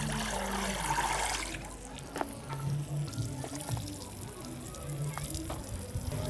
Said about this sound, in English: Now we are going to water the bed to check the level of our bed